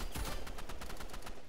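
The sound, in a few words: gunfire in a video game shooting a corpse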